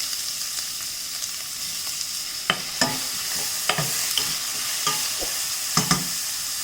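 Chopped onions sauté in oil in a pan, giving a soft, steady sizzle broken by a series of sharp spatula scrapes and taps at irregular intervals, close up with no talking.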